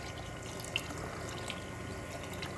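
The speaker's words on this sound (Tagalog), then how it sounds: "Lagyan natin ng tubig" Water runs steadily into a cooking pot for potato soup, a continuous close-up pouring and splashing hiss lasting a few seconds with no talk over it.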